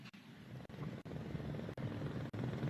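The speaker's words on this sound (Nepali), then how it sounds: "सैनिक हवाई सेवाको हेलिकप्टर मैदानको पूर्वी दिशाबाट बिस्तारै प्रवेश गर्दैछ।" Army air service helicopter slowly entering a parade ground during a Republic Day ceremony, heard as a steady, faint rotor and engine drone with a rhythmic chopping texture, distant and continuous, with no voices.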